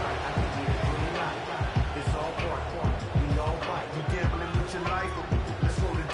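Stadium crowd noise in the Madden NFL 25 football video game: a steady roar of fans with rhythmic low thumping beneath it, heard under continuous broadcast commentary.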